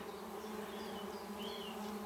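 Honeybees hum in a steady, close swarm around a hive in a wall, a continuous buzzing drone with individual wingbeats rising and fading now and then.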